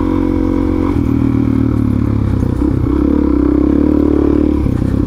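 A Suzuki DRZ400SM motorcycle with 19,000 miles, ridden off-road on dirt, gives a loud, steady, close engine drone with a few shifts in pitch and light clatter throughout.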